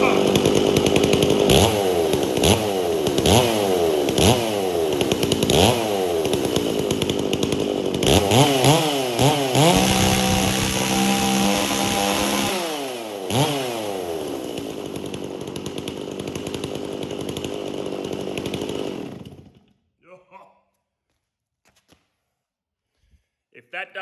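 A two-stroke chainsaw engine runs loud and close, revving up in repeated rising and falling bursts, then settling to a steadier roar before cutting off, with a voice talking over it.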